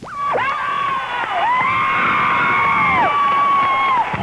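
A packed theatre of nearly 3,000 fans roars with sustained cheering, whoops and screams at the final bows of the last Los Angeles performance of The Phantom of the Opera, a loud continuous crowd wall with high shrill voices on top.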